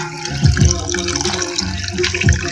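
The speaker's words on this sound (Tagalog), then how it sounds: "Lagyan niya ulit ang water." Water splashes and trickles as it is poured or run from a tap, making a steady liquid rush with a few low gurgling pulses. It is fairly close and there is no talk.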